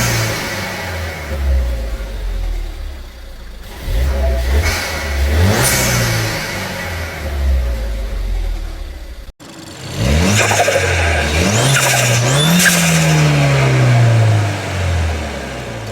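A modified Ford Fiesta ST Mk7 with an aftermarket blower valve revs hard and lets off repeatedly, engine surges rising and falling with turbo flutter on lift-off, loud and close with no talk.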